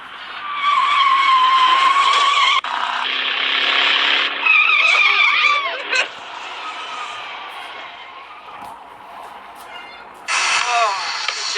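Race car tires skidding and squealing loudly from Herbie, the Volkswagen Beetle race car, with sustained screeching and sliding swoops over engine roar, briefly dropping to a quieter stretch before another burst of skidding.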